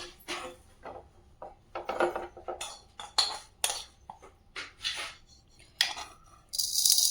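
Roasted dal and other cooked ingredients are moved from a pan into a blender jar, giving a run of close, irregular clinks, taps and scrapes of a spoon against metal and glass, with short gaps between them.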